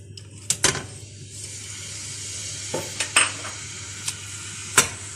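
Onions fry in about a cup of oil with butter in a pan for palak gosht, giving a steady sizzle broken by sharp metallic clanks of a spoon stirring against the pan.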